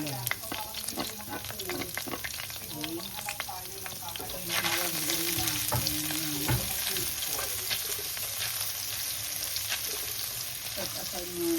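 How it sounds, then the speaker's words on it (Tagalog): Onions sizzle and crackle in oil left over from frying chicken, a steady bright frying hiss with stirring clinks and scrapes, close up, running throughout. "Siyempre sa pinagprituhan ng pakundangan, ilagay natin ng sibuyas."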